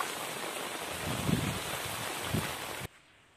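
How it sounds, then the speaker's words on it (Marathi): Heavy monsoon rain falls steadily in a flooded village beside a swollen river, a dense, even hiss of downpour that fills the scene before stopping suddenly near the end. "आणखीन पाऊस चालूच आहे"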